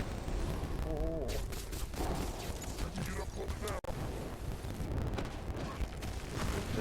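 Rapid gunfire and bursts of shooting in Spider-Man 2 rattle on repeatedly amid loud game effects, with a person talking over the action.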